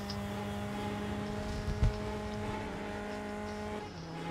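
A race car in the game Grid Legends hums along with steady engine tones, its tyres briefly squealing and skidding in a short burst midway, with no talking.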